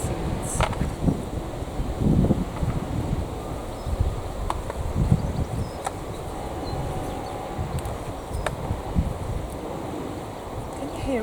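Strong, steady wind gusting outdoors through a kitchen garden during a flower and seed harvest, giving a constant loud rushing roar with microphone buffeting and occasional faint background ticks.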